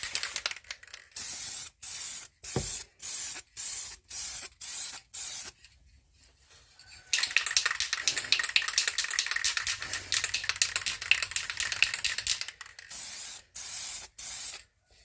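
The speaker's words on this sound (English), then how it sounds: "Let's see if this one sprays. It does." A spray can hisses in a run of short, even bursts, then gives one longer continuous spray and a few more quick bursts while a hydro dipping attempt gets underway, with no talk.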